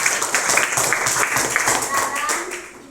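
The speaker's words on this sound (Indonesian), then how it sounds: "Tepuk tangan dulu." Children in a classroom clap their hands together in a steady, close burst of many small hands, with voices mixed in throughout.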